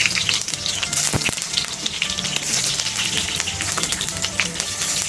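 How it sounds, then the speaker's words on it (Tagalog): Onion sautéing in a pan for ampalaya gisado, a steady broadband sizzle with scattered pops and crackles running throughout, close and fairly loud with no talking. "Yun ang aking sariling version ng paggisa ng una kong ilalagay ang sibuyas."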